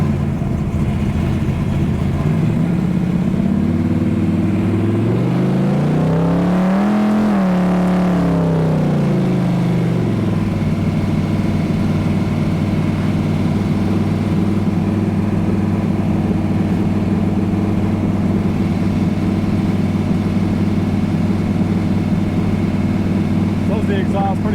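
A 1968 HEMI Dart GTS muscle car engine and exhaust rumble loudly, with a sharp rev that rises and falls mid-clip before settling back into a steady deep drone, while people talk over it.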